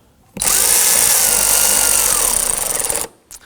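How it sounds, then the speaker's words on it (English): A power tool whirs steadily for about three seconds, driving the screws on the air filter box lid of a 2003-2014 Volvo XC90. It is close and loud, then stops abruptly, leaving a brief faint tail. "Line up the lid, install the screws."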